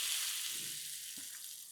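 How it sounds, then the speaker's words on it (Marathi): Hot mustard seed tempering with asafoetida and curry leaves is poured over green coconut chutney, giving a soft, steady sizzling hiss that fades slightly over its brief span. "मस्त गरम गरम फोडणी चटणीवर"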